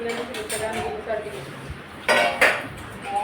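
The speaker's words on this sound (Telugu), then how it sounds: "ఇంకా తిన్నా గిన్నెలు ఉంటాయి కదా ఫ్రెండ్స్, అవి కూడా తోముకోవాలి ఫ్రెండ్స్. చూడండి ఇంకా తోముకుంటూ మొదలెట్టాను." Dirty pots, pans and utensils are scrubbed and handled at a sink, giving close clinks and clatters with two sharper knocks near the end, while a voice murmurs faintly in the background.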